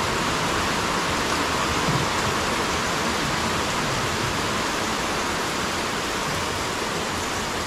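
Heavy rain pours down in a steady, dense broadband roar that holds loud and constant throughout, with no voices over it.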